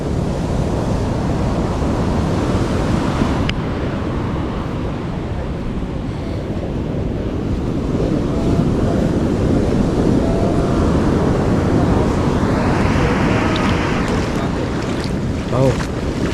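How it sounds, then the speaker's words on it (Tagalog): Big ocean waves roar steadily, mixed with heavy wind buffeting the microphone, loud and continuous for the whole stretch. "sobrang laki ng alon ba naman"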